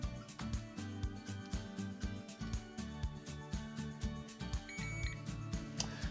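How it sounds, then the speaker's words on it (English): A MiLocks XF-02 electronic keypad door lock gives a rapid run of short beeps and clicks after its button is held down with a screwdriver to clear the codes; the tones are close, repetitive and uneven in rhythm. "you should hear it beep like that a couple of times"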